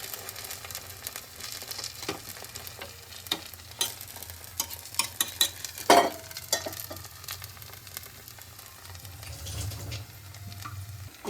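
Potato slices frying on a low flame in a pan, with a steady soft sizzle and a few scraping stirs and taps of a utensil in the middle, no voices.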